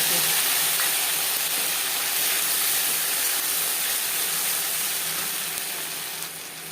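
Half a teaspoon of whole cumin seeds fries in hot oil in a kadai, making a steady, close hiss and sizzle that fades slightly toward the end.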